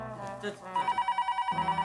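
A household telephone in a Hindi sitcom home rings with a rapid, pulsing electronic trill that starts partway through and repeats steadily to the end, following a moment of voices at the start.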